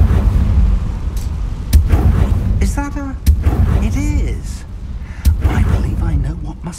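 Confringo spell blasts in the video game Hogwarts Legacy: several sharp booming bursts ring out over a few seconds, while players chatter and shout over the gameplay sounds.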